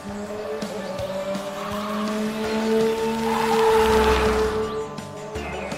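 An animated race car revs and drives past with long tire squeals and skidding, its engine tone rising and swelling to a loud peak before easing off, with a cartoon soundtrack running underneath.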